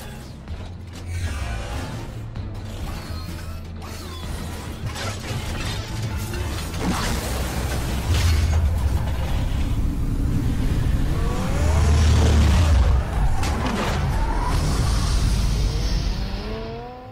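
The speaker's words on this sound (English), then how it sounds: "it actually transforms into the Batmobile." Batman's car in Batman: A Telltale Game, a Lamborghini- or Ferrari-like vehicle, transforms into the Batmobile with a sustained run of mechanical creaks, ratcheting clicks and whirring parts over a low engine rumble, loud and continuous throughout.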